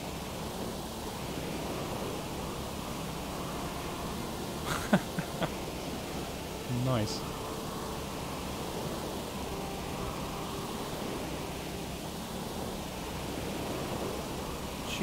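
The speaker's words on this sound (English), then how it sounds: "Look at these waves." Ocean waves in the Stormworks video game, heard from aboard a boat: a broad, constant wash of surf noise with a few brief clicks and one short spoken word over it.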